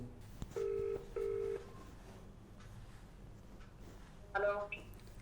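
Two short electronic beeps, then a quiet pause, followed by a brief burst of higher tones like a phone connecting, with faint background noise.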